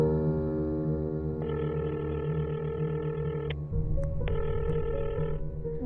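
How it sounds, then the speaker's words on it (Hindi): A telephone rings repeatedly and goes unanswered in two electronic bursts over a sustained musical drone, and the drone shifts lower partway through. "दीदी फोन नहीं उठा रही है।"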